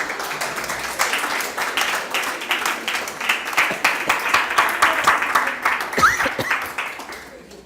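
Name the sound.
congregation applause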